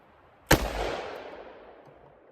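A single sharp .44 Magnum gunshot fired at body armor cracks loudly and close, then trails off in a long fading echo.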